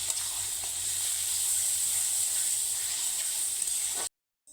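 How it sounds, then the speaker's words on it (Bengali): Onion paste and tomato fry in a pan, giving a steady, close, even sizzle and hiss that runs for about four seconds before cutting off abruptly. "পেঁয়াজ টমেটো খুব ভালোভাবে কিন্তু ভাজা ভাজা করে নিতে হবে"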